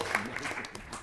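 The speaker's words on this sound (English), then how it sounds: "That's another applause" Brief burst of audience applause at a comic convention event, short and moderately loud, with a voice talking over it.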